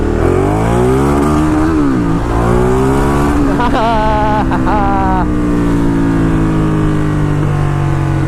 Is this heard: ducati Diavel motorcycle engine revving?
yes